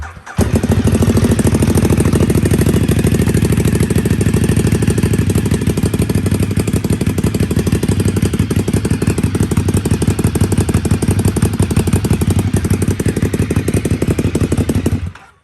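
A Ducati Desmosedici 848 race bike with a replica exhaust fires up and runs loud and close, a rapid, raw, staccato engine bark held steady for about fifteen seconds with no talk.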